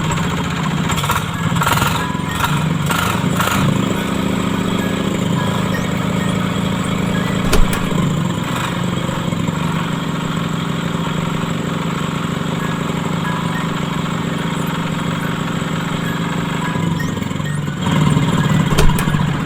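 The small engine of a Kub fish feed pellet machine runs continuously at a steady idle, a rough, loud, chugging drone with a few brief knocks and rattles scattered throughout.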